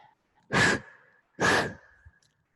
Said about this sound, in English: Take a deep breath and sit up.